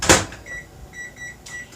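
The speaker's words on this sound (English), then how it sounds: "So we'll put that in the microwave" A microwave oven door shuts with a thump, then a string of short electronic beeps follows as it is set and started, close up in a quiet kitchen.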